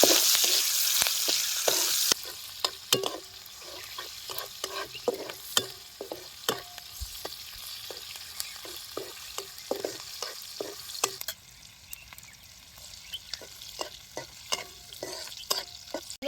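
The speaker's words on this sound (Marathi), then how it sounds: "बारीक चिरलेली मिरची टाकून घेऊ छान असं खालून घ्यायचं" Finely chopped green chilies with garlic frying in oil for spicy village-style poha, a soft continuous sizzle broken by frequent sharp scrapes and taps of a spoon stirring against the pan, close and clear with no talking.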